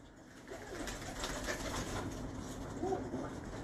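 Sialkoti and Teddy cross pigeons cooing in a home loft, low soft coos over a continuous noisy background rumble, fairly close, with no talk.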